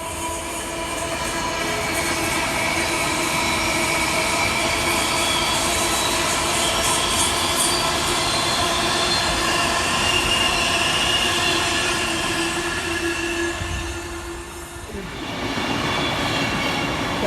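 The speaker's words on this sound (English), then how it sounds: "Another Avanti Class 390 exits the tunnel, heading north." An Avanti Class 390 passenger train rolls out of a tunnel on the West Coast Main Line with a loud, sustained roar and steady wheel rumble, a high whine running over it before the sound shifts near the end.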